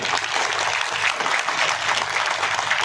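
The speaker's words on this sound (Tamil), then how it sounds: "இதை திறம்பட நடத்தி கொண்டிருக்கக்கூடிய தலைவருக்கு ஒரு பாராட்டு ஒரு கைத்தட்டல்" An audience applauds its leader at the 50th anniversary celebration of the Kamban Kazhagam literary society in Pudukkottai, a dense, even roar of many hands clapping without pause.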